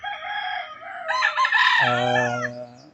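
A 13-month-old bulik gamecock rooster gives one full, loud, close crow that rises and then holds a long, drawn-out final note, heard alone with no talk over it.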